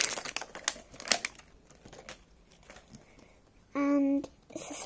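Crinkly plastic packaging around an LOL Surprise doll is pulled open in close rustling bursts, followed by a short steady electronic tone near the end, with quiet voices in between.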